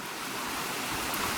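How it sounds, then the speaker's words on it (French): Steady rain falls outdoors near a swimming pool that is close to overflowing, a dense even hiss with no breaks, fairly loud and close, with no voices. "Voilà, il pleut, il pleut, il pleut."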